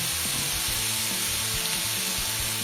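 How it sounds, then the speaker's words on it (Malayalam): Onions and curry leaves sauté in a pan for fish cutlets, a steady close sizzle and crackle of frying oil running without a break, with faint scraping under it. "ഇതിലേക്ക് നമ്മൾ എടുത്ത് വെച്ചിരിക്കുന്ന കറിവേപ്പില കൂടി ചേർത്ത് ഒരു ചെറിയ ഗോൾഡൻ ബ്രൗൺ ഷെയ്ഡ് വരുന്നത് വരെ വഴറ്റിയെടുക്കുക."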